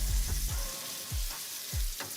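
Fish sauteing in seasoned oil, a steady sizzle broken by several deep, sweeping scrapes and thumps from a utensil moving in the pan.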